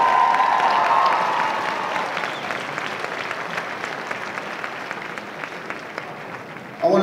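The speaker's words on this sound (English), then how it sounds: "Let's give them another round of applause." Crowd at a high school prom court assembly applauding a jazz band, loud sustained clapping with some cheers that fades gradually, then a voice cuts in near the end.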